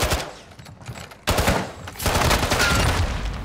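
In an online shooter video game, a new gun fires in rapid automatic bursts that crackle on and off with short gaps, loud and close.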